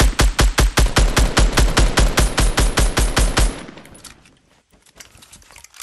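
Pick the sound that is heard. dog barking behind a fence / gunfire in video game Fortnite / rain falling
gunfire in video game Fortnite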